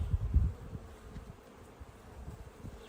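Honey bees buzz around a beehive frame drawn out with comb, a soft, wavering drone with a few nearer bees passing close.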